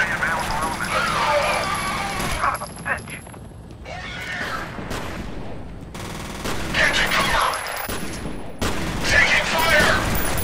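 Sustained gunfire and explosive chaos fill the first-person shooter F.E.A.R., a dense, loud, continuous barrage of overlapping shots with brief lulls, under occasional talk.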